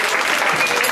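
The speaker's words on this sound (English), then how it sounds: "So the coaches, give them a round of applause, please." A brief burst of dense applause from a crowd at an athletic awards banquet, honoring the coaches, steady and fairly close for under a second.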